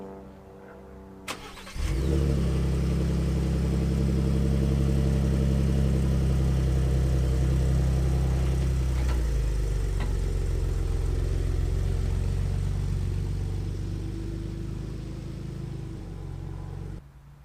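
A Ford F-150 Raptor pickup truck fires up with a sharp start, then its engine settles into a loud, steady drone close by, rising slightly, with no one talking.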